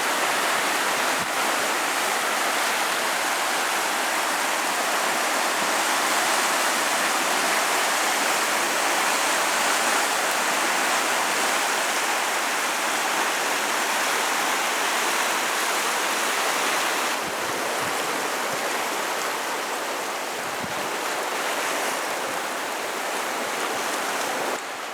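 River rushing through Cimarron Canyon in Colorado, a continuous loud broadband roar of flowing water, steady and close for the whole stretch with no other sounds.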